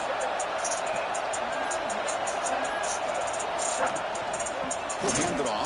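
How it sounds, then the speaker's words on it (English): A loud stadium crowd roars continuously in an American football video game, a dense wash of cheering and murmur that stays steady throughout. "Listen to the crowd energy here in the early going."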